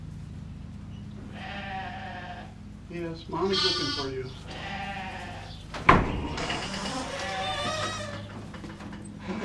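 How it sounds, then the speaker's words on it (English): Sheep and lambs bleat repeatedly nearby in a farm pen, several loud wavering cries overlapping with a person's speech throughout. "There's sheep out there."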